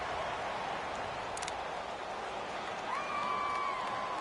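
A stadium crowd in a PS4 American football video game roars steadily at a faint, distant level as a big third down approaches, with a brief high tone partway through.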